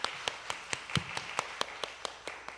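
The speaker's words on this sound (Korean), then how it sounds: "크게 박수 쳐주세요" Sparse, rhythmic hand claps at a Korean church Sunday service, about a dozen crisp slaps at an even pace, fairly faint and heard in a quiet room.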